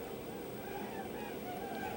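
A dense flock of snow geese or blue geese honks continuously, many overlapping calls forming a loud, steady clamor with no break.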